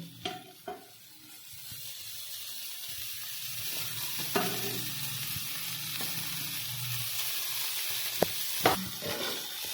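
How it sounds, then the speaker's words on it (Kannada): Onion, tomato and chopped fenugreek leaves frying in a pan for aloo methi paratha, a steady close sizzle with a few stirring scrapes and utensil taps, no voices. "ಇದು ಸ್ವಲ್ಪ ಫ್ರೈ ಆಗಲಿ, ಟೊಮೆಟೊ ಸ್ವಲ್ಪ ಮೆತ್ತಗಾಗಲಿ."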